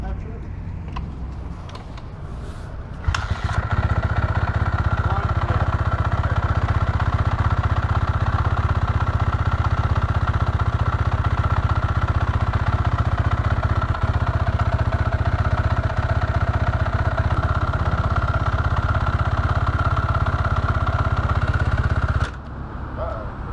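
A 2013 Kawasaki KX250 dirt bike engine runs steadily at a loud, close, droning idle for about twenty seconds, with voices talking faintly before it starts and again after it cuts off.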